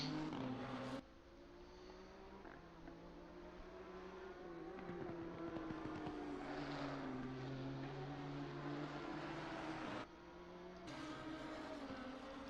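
A Lamborghini V10 race car screams through its gears in a sim racing broadcast at Zandvoort, a steady high engine whine rising and falling with shifts, heard alone and fairly faint.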